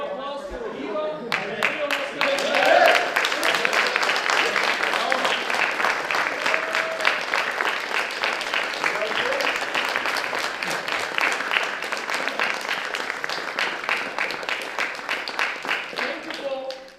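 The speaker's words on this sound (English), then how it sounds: "One more applause for Ivo" A crowd applauds steadily, dense clapping that swells quickly and holds for a long stretch before tapering off at the end.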